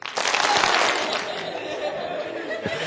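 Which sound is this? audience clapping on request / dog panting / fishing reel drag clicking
audience clapping on request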